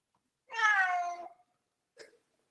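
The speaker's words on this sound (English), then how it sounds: "This is hungry meow." A hungry cat gives one clear, drawn-out meow close to the microphone, followed a moment later by a short faint chirp-like sound, in an otherwise quiet room.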